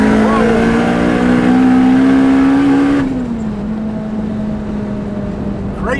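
A 645bhp four-cylinder Honda Civic Type R engine revs hard, a loud steady tone rising as it accelerates, then drops back to a lower drone, heard from inside the car.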